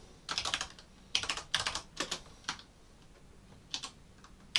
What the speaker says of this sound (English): So let me just type it.